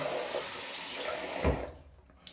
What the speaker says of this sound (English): I should have given this a little more water, and I think I will do so